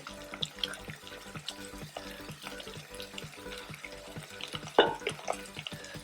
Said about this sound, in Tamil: சேர்த்துட்டு எண்ணெயிலே நல்லா 1 நிமிஷம் வரைக்கும் நல்லா வதக்கி விட்டுக்கலாம்